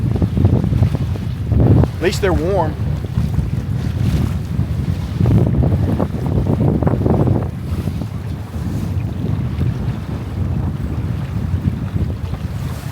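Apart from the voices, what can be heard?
wind gusts on a Catalina 22 sailboat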